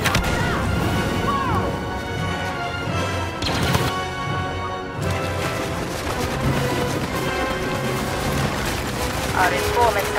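Blaster fire in Star Wars Battlefront's Hero Hunt mode, sharp laser bursts and crashes popping over game music and character voices, with a louder cluster of shots midway.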